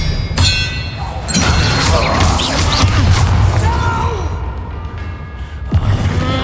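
Expelliarmus spell impacts land in a Harry Potter video game as heavy thuds and crashes, loud and close, one early, a bigger burst after it and another near the end, mixed with gasps and vocal effort sounds.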